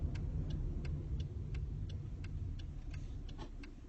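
Car turn signal indicator ticking inside a vehicle during a driving test in the UAE, a steady series of about a dozen faint, evenly spaced clicks over a constant low engine and cabin rumble.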